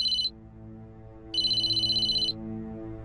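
A telephone rings with a bright electronic warble, one short burst and then a longer one about a second later, over a low steady musical drone, with no talk.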